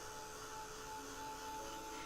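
A heated embossing craft tool blowing hot air to dry watercolor paint, a steady, faint whirring hum with a thin whine that runs unbroken throughout, without speech.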